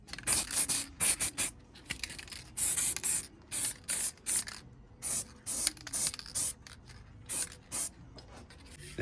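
Silver spray paint is dusted onto a Vauxhall Mokka X 1.4 front brake caliper, a series of short, close hissing bursts with brief pauses between them.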